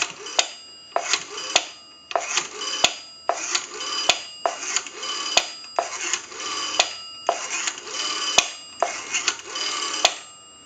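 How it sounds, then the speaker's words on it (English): A three-slot 233G payphone dials numbers out on a line analyzer, producing a steady series of about a dozen clicking pulse bursts, each with a sharp snap at the end, loud and close with no talking. "we're going to dial our numbers out"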